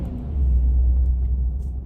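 A small Mercedes-Benz gull-wing car passes close by with a steady, loud low rumble that rises and then eases off, and no one talks.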